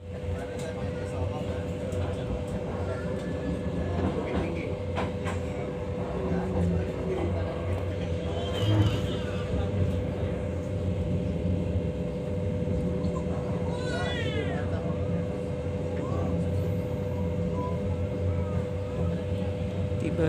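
Extra passenger train from Pasar Senen to Semarang running, with a steady loud rumble and droning hum from inside the carriage that continues unbroken throughout.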